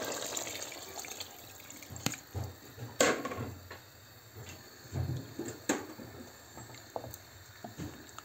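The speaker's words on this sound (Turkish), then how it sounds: "Şimdi içerisine suyunu ekliyorum." Water is poured into a pot of dried beans for Turkish kuru fasulye, giving soft splashing and sloshing in uneven bursts, with a few clunks of the pot and container close by.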